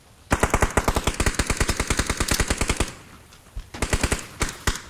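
Rapid automatic gunfire from the battle royale game PUBG, a loud sustained burst of evenly spaced shots lasting over two seconds, a brief pause, then a shorter second burst, with no talking.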